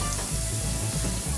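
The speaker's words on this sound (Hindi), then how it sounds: "अदरक लहसुन का पेस्ट देखिए फ्राई हो रहा है हमारा।" Ginger garlic paste and cumin fry in a pan, giving a steady, loud, close sizzle with faint stirring beneath, with no talk.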